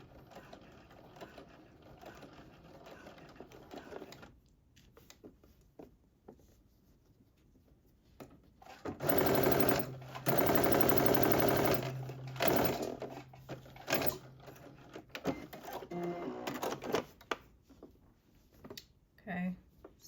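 Sweatsuit fabric is back-stitched on a sewing machine in two loud motor bursts, between stretches of clicking, rustling and handling noise with speech in the background.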